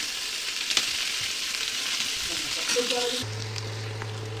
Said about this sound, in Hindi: इसको फ्राई करना है हमें जब तक ये गोल्डन ब्राउन नहीं हो जाता